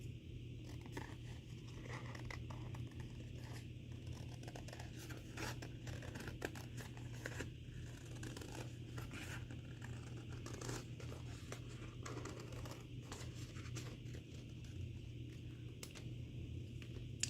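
Scissors snip through a paper plate while a sloth craft is cut freehand into a rough circle or oval, a quiet close series of irregular crunchy cuts and scraping paper sounds over a low background hum.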